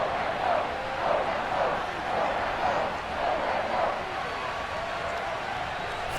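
A sold-out stadium crowd at a Patriots versus Dolphins football game in Madden 22, a steady broad roar with swelling cheers, continuous and fairly loud throughout.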